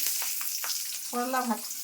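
Green chillies go into a hot wok and sizzle with a bright, crackling hiss, with a few stirring knocks and a brief tonal squeak near the end.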